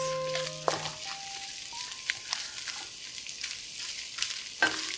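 Quiet, steady sizzling of vegetables and cooked chicken frying in a pan, with occasional scraping stirs and clinks from a utensil and a faint tone at the start.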